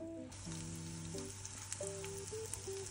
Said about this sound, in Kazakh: Осыны араластырып, қуырып алатын боламыз.